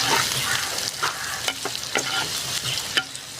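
Thinly sliced shallots sizzle in a hot pan as they are sautéed, with a steady close frying hiss broken by sharp scrapes and taps of a spatula stirring them.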